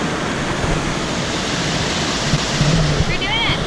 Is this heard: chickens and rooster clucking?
no